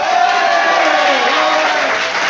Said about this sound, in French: Vous l'applaudir encore un peu.